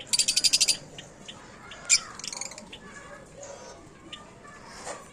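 Parrots perched among other pet birds, giving a rapid burst of shrill chirps followed by scattered sharp calls and squawks, fairly close, with faint background noise.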